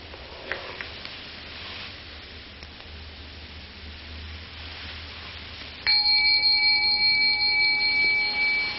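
A bell rings out of near silence, entering suddenly partway through as a bright, sustained tone with steady high overtones that hang and ring on to the end, loud against a faint hiss.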